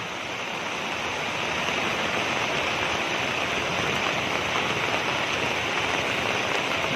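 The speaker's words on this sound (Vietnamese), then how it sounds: "Ôi trời mưa to quá này" Heavy rain pours in a dense, steady hiss that stays constant and loud throughout, with no speech over it.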